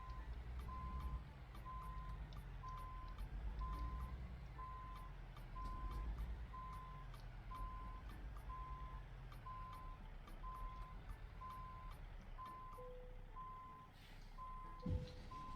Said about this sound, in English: Go ahead and get backed up here to our trailer.